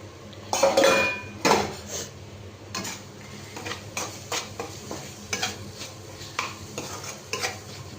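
Prawns go into a hot pan and get stirred, with utensils scraping and clinking against the metal at an uneven pace over a soft background sizzle. Two louder clatters come early, then lighter taps and scrapes.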